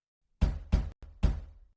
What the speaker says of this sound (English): 3 knocks.